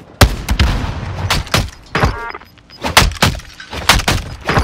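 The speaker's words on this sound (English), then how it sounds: "Stun grenade out!" A stun grenade going off in a Call of Duty match on Rebirth Island, surrounded by loud, sharp gunfire cracks and booms in quick irregular bursts throughout.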